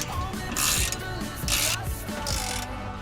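Ratcheting torque wrench tightening bolts to 74 foot-pounds while a Wavetrac limited-slip differential goes into a 370Z Nismo. Three close, rasping clicking bursts come in a steady rhythm over a low background hum, with no talking.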